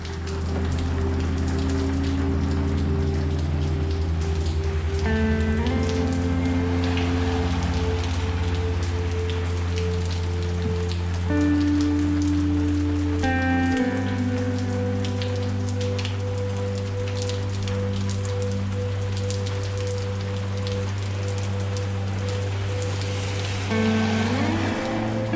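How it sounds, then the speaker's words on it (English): Steady, dense rain pouring down without pause, with a constant low rumble and scattered drips and splashes layered over it, no voices. "It rained all afternoon."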